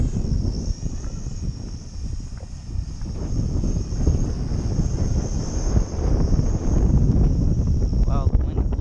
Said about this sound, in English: Wow, the wind is blowing it a lot.